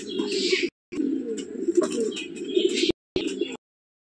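Old-generation Giribaj pigeons coo in low, throaty rolling phrases, fairly close and steady, with brief silent gaps between bursts and faint chirps above.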